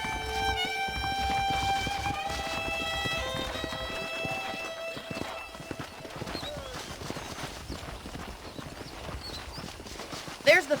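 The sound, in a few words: horses clip-clopping in video game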